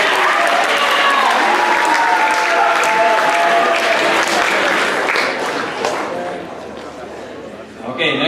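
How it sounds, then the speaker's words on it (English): An audience at a high school awards ceremony gives a round of applause, loud and dense at first. The clapping thins and fades toward the end, with some voices mixed in. "Please give them a round of applause."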